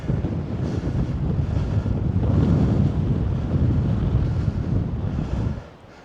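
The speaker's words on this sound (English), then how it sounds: "So it's quite windy here" Strong wind roaring across the microphone on high ground in Cornwall in a steady, blustery rush that drops away abruptly near the end.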